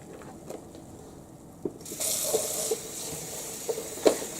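Water runs and hisses as the dirty tank of a Hoover Power Scrub Elite Pet carpet cleaner is rinsed out, a steady spray starting partway through with a few knocks and clunks, no talking.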